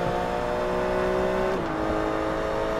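Race car engine in Forza Motorsport 3 droning steadily at high revs through a banked oval race, loud and continuous, its pitch dropping slightly as it shifts midway.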